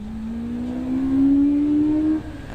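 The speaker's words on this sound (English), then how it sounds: "And Michael Rhodes launches away in the Peugeot 106." A Peugeot 106 race car launches hard at Mallory Park in the Quick60 Challenge, its engine note climbing loudly and steadily for about two seconds before cutting off abruptly.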